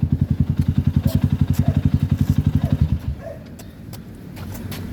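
A Rusi Sigma 250 motorcycle idles close by with a fast, even thumping beat for about three seconds, then the engine is switched off and only quiet background noise remains.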